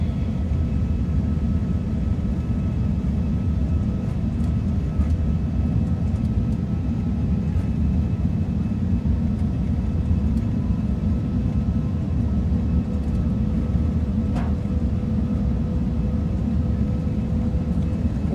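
The engines of a Lufthansa airliner at takeoff power during the takeoff roll at Munich make a loud, steady roar. It is heard from inside, holds constant and unbroken throughout, and carries a faint whine above the deep rumble.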